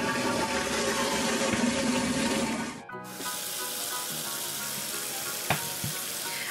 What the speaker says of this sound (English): need to flush the toilet and then wash my hands